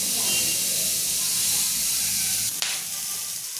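Mixed vegetables with onion steam-roast in a covered pan, giving a steady, loud sizzling hiss throughout, broken by one brief clatter near the end.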